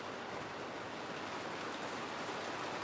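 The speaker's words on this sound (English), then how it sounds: "It is raining out there." Steady, dense heavy rain pattering on a roof, constant and even throughout, with no voices.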